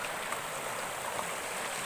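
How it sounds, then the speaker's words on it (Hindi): A small mountain waterfall with little water flowing, giving a steady, even rushing hiss without breaks throughout. "आप यहाँ पर देखते होंगे एक झरना बह रहा है, काफ़ी छोटा है, पानी कम आ रहा है"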